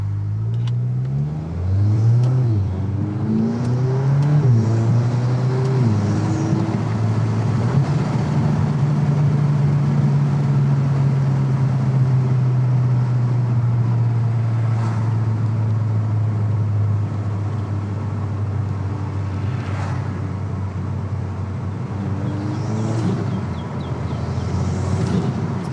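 A 2022 VW Golf R MK8 fitted with an MST Performance full intake accelerates hard, its engine note climbing through the gears in a loud, steady, close-up drone that holds for most of the run.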